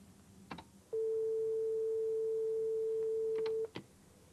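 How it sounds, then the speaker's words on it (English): A single pure sine tone holds steady for nearly three seconds, loud and clean, bracketed by a few faint clicks and taps before and after. "The simplest sound we can have is a single sine wave,"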